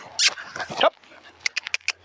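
A young, small puppy being trained outdoors in the countryside gives a quick run of short, high-pitched yips and barks after an earlier burst of louder, whining vocal noise nearby.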